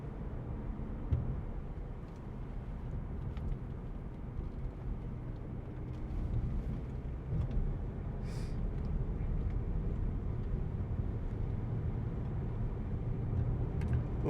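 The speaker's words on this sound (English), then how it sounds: "diesel engine, low end torque, pulls up the hill like nobody's business" Audi A6 2.0 TDI ultra diesel saloon, a 2017 S Tronic model, pulls steadily up a hill without changing gear, its engine a low, constant droning rumble beneath broadband road and wind noise, with no talk.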